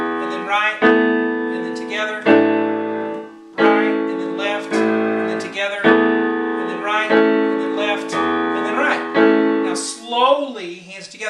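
Piano playing the Searchers' Needles and Pins with both hands together, a steady rhythmic run of struck chords and bass notes, close and clear, with no talking.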